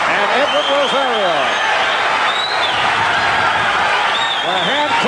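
Boxing crowd in London clapping and whistling after a fight between Frankie Randall and Edwin Rosario, a dense steady roar of applause with a commentator talking over it.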